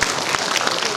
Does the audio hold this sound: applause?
yes